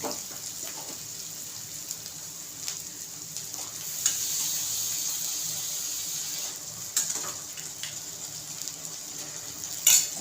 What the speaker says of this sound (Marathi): मसाल्याला तेल सुटलं आता मी चणे घालते